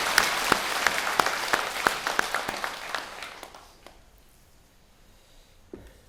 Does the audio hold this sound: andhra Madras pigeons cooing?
no